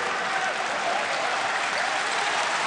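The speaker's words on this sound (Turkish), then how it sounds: "Alkışlar Darren Williams'a" Basketball arena crowd applauding a player during a EuroChallenge game between Besiktas and BG Gottingen, a dense, steady wash of clapping throughout.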